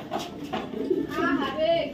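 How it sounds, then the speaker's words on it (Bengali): A racing pigeon held in someone's hand gives low, soft coos and rustles in short bursts, close by, with a voice talking over it. "কবুতরটা কতটা ছটপটা কবুতর"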